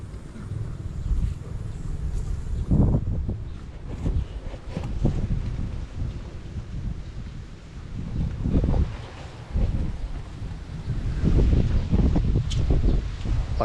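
Wind gusts blowing through a garden of bottle gourd plants, a steady rustling roar with louder low buffeting bursts rising and falling throughout.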